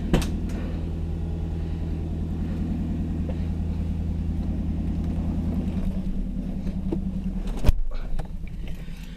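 A car engine, likely the Cadillac SRX4, idles steadily to warm up to temperature, a low even rumble with faint rhythmic ticking, ending in a brief clunk near the end.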